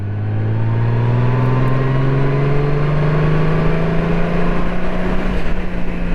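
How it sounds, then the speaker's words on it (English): A Honda Goldwing DCT motorcycle accelerates in tour mode, its engine note rising steadily and loud and close for the whole stretch, with no talk over it. "Here's tour mode. Let's slow it down, slow it down, slow it down. Do the same thing. Roll on the throttle."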